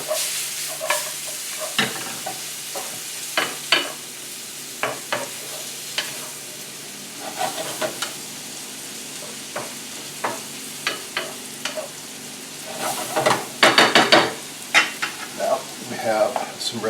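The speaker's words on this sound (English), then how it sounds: "some lima beans, with that butter melted in there." Lima beans sizzle in melted butter for succotash, a steady low frying hiss punctuated by frequent sharp clinks and scrapes of stirring, busiest near the end, with no talk.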